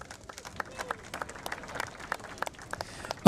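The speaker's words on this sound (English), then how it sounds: "Give a round of applause for all the support for this great event." Scattered, fairly faint applause from a crowd at the Hurley Pro Sunset Beach surfing event on Oahu, with irregular individual claps over a soft background hush.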